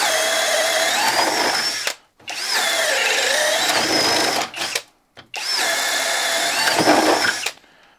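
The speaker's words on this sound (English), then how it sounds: "now let's do a 1-inch Flex auger." A Flex compact drill bores with a 1-inch Flex auger bit in three loud, steady whirring bursts, separated by brief stops.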